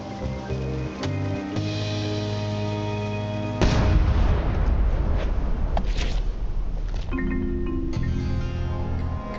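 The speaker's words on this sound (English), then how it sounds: "Ready for cannon firing." In the Return to Monkey Island video game, a ship's cannon fires a loud booming blast partway through, then a rumbling tail. Game music plays before and after the blast.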